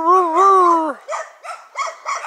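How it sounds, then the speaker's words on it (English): A small dog gives a drawn-out whine, then barks in a quick series of short, sharp yips close by, with no one talking over it. "Oh, there comes some little dog."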